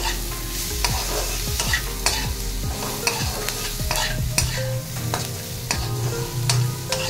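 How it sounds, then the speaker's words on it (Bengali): Masala with tomato, salt and turmeric is stir-fried in a pan, a continuous close sizzle broken by repeated scraping strokes of a spatula at an uneven rhythm, with no voices. "দিয়ে আবারও মশলাটাকে খুব ভালো করে কষিয়ে নিচ্ছি।"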